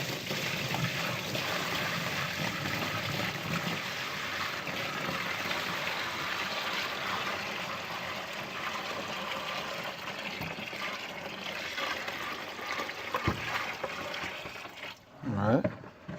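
Water from buckets pours slowly into a container in a long steady gush, filling continuously before it ends with brief handling noise; people talk quietly over it.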